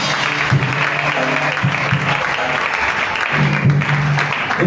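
A church congregation applauds together at an evangelical service closing a seminar, a steady, loud wash of clapping from many hands with a few voices calling out beneath it.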